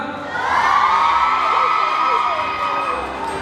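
A large crowd of fans cheers and screams continuously at an awards show, loud shrill voices blending into a sustained roar.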